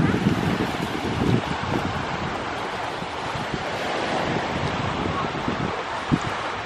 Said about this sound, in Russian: Такой красивый океан.